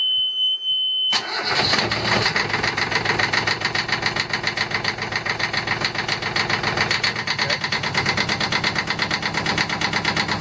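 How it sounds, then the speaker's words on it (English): Brief quiet, then an engine cranks and catches, settling into a loud, steady knocking idle that runs to the end. "we're just about to start the engine again."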